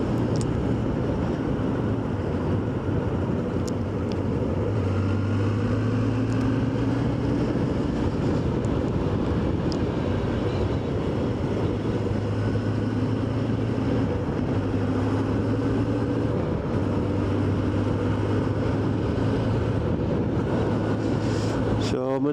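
Suzuki GSX1400 motorcycle, a British-market bike in original condition, cruising in top gear at low speed with a steady low engine drone and rushing wind, heard under a rider's talking.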